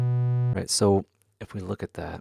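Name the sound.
sine wave test tone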